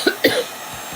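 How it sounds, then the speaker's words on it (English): A person gives two quick, close coughs in a row, with a short quiet tail afterward. "No coughing."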